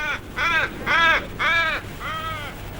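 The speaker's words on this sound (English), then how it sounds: "The crows leave in a hurry." Several loud crow caws in quick succession, five harsh calls close by, the last one slightly fainter.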